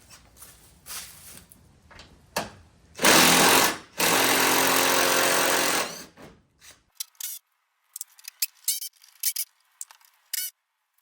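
A power tool loosens the front fender bolts on a Ram 1500: a loud, sustained buzzing rattle in two close bursts, about a second and then two seconds long. Quieter clicks and clatter of parts follow.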